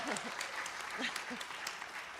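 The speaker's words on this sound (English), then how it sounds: "And yes, much applause." Warm audience applause at a community talk about a Blacksburg refugee partnership. The clapping is fairly soft and continuous, with a faint voice mixed in.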